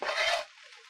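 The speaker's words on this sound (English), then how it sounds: "So I'm just going to stir that in." Diced, microwaved Yukon Gold potatoes are stirred into peppers and onions in a pan, giving a brief, quiet scraping rasp that lasts under half a second and then fades into a faint hiss.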